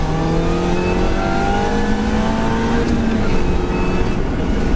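A Mini Cooper S engine revs hard and climbs steadily through its range, loud and close, with a rising tone, constant and uninterrupted, without talk.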